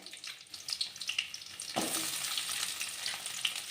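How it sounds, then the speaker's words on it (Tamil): Large onions and garlic sautéing in a pan for Chettinad fish curry crackle with scattered clicks of a stirring spoon, then settle into a denser, louder sizzle that runs steadily to the end. "இப்போ நம்ம வெங்காயத்தை வதக்கிக்கிறோம் பெரிய வெங்காயத்தை தான் நான் வதக்குறேன்"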